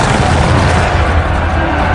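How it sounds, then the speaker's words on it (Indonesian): Heavy, continuous booming roar of ship cannons firing at once in a naval battle, dense low rumbling blasts overlapping with no pause, loud and close. "menembakkan meriam tersebut secara bersamaan ke kapal yang sudah memepet kapal Yi Sun Sin"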